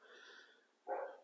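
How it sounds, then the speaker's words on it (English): A dog in a quiet home workshop lets out a soft whine and then one short, sharp bark at close range, with no one speaking. "What you barking at?"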